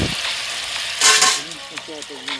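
Frozen prawns drop into a pot of boiling water for paella, giving a brief splash and hiss, followed by faint bubbling and a few light clinks nearby, with a voice in the background.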